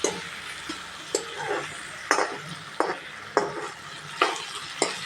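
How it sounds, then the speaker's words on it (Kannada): Ridge gourd and tomato fry in oil while a spoon stirs them, producing a soft, continuous sizzle punctuated by regular scraping strokes against the pan at a slow, steady pace. "ಎಣ್ಣೆಯಾಗ ಫ್ರೈ ಆಗಿರ್ತೈತಿದು."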